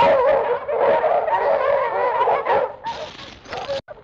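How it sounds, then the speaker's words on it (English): A pack of hounds bays and barks on the trail in an old Western drama, a loud, continuous overlapping chorus of howls that fills the scene before thinning out at the end. "Those are hounds. They picked up our trail."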